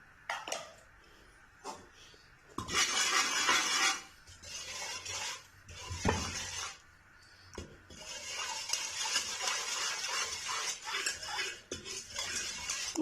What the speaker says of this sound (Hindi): अच्छी तरह मिक्स करेंगे इस ऑयल में